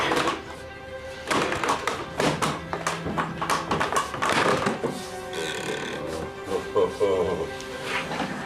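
A medieval wooden printing press is worked in a reconstructed setting, giving repeated knocks, thuds and creaking wooden strains at close range, with people talking over and between the sounds.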